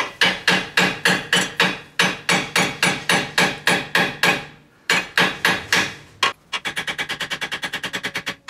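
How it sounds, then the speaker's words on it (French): Metal hammer striking repeatedly to tap a bent part back into place, loud and close, in quick regular bursts of blows with brief pauses, ending in a faster rapid series of lighter taps. "avec un marteau, normalement, je devrais arriver à la refaire remonter"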